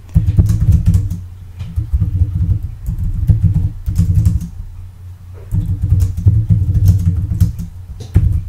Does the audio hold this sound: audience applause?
no